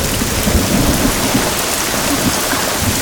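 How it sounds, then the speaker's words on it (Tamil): Heavy rain pours steadily in a Tamil film scene from Porkkalam, a dense, loud wash of downpour with low rumbles that suggest thunder, continuous and without pauses. "மழை ரொம்ப அதிகமா இருக்குடி"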